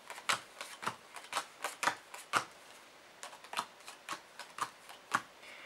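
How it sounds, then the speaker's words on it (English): Board game cards for a pirate-themed game being shuffled and dealt by hand, a run of sharp, crisp riffling snaps in quick bursts with a short pause midway, close and clear with no talking. "you're going to take the cards and you're going to shuffle them."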